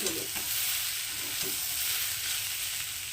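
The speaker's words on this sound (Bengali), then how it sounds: "মিডিয়াম আছে এটাকে আমি এখন ভাজতে থাকবো" Greens of Malabar spinach (pui) being fried and stirred in a pan at medium heat for a Bengali stir-fry, a steady close sizzle with scraping strokes of the spatula continuing throughout, no talking.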